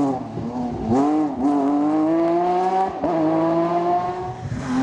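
A Porsche 997 Cup rally car on a stage of the Rallye Lyon-Charbonnière screams loudly through its gears, its engine note climbing and dropping between shifts, with a few brief lifts and surges.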